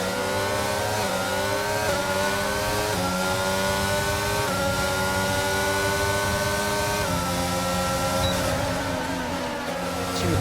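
Formula One race cars roar through a racing video game's Canadian Grand Prix, their high-pitched engines whining continuously with rising and falling pitch as several cars run close together, loud and steady throughout.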